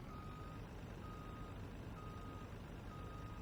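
A big truck backing a long trailer in Farming Simulator sounds repeated reversing beeps at a steady rhythm, each tone clear above a constant low diesel engine rumble.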